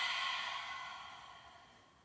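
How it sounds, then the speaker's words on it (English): A long, breathy exhale through an open mouth during yoga breathing, soft and airy, fading steadily over about two seconds with no talking. "Open your mouth, exhale."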